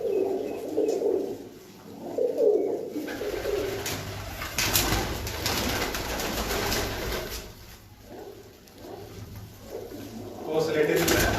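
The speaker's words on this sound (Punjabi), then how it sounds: "ਉਹਨਾਂ ਦੇ ਬੜੇ ਪੁਰਾਣੇ ਕਬੂਤਰ ਨੇ" Pigeons coo in an old breeding loft, soft rhythmic calls rising and falling close by, with people talking over them.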